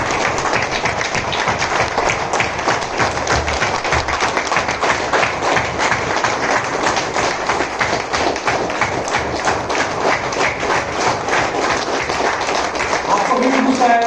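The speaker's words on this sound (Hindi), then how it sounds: "have a huge round of applause for your all" Audience applause at a Vestige business meeting, as a dense, continuous wash of clapping from a crowd, loud and unbroken throughout.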